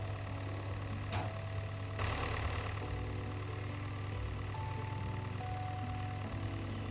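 Tractor engine idling in the Roblox game Storage Hunter, a low steady droning rumble that runs evenly throughout, with a few faint clicks and tones from the game layered over it and no talking.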